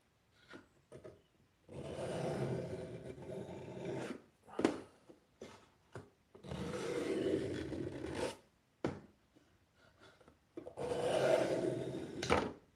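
Knife with a Scandi grind being sharpened, close grinding strokes in three longer passes separated by short scrapes and taps, fairly quiet.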